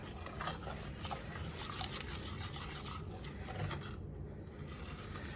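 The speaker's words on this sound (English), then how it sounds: "And we just want to whisk that in as well." A whisk stirs salt into a homemade salted caramel sauce, making a continuous soft scraping and rubbing that stays fairly quiet and steady throughout.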